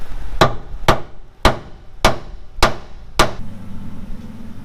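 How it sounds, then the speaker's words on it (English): A hammer strikes a rusty part under a Duramax pickup truck six times at a steady rhythm, each blow a sharp metallic clank with short ringing decay, followed by a low hum once the strikes stop. "now we're gonna hammer it"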